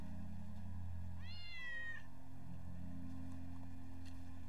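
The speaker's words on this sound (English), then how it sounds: "That's Wedge's cat." A single rising meow from a cat in Final Fantasy 7 Remake cuts through a steady low hum of game ambience, clear but brief, with no talking.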